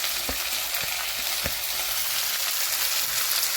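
Onions fry with ginger and green chilli in a hot pan for a chilli prawn dish, a loud, even sizzle broken by a few soft stirring knocks near the start.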